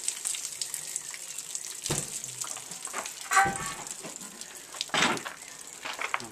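Running water splashes and gushes from a tap, with intermittent surges as a freshly painted Harley-Davidson XL883 Iron motorcycle part is rinsed under the stream; no talking.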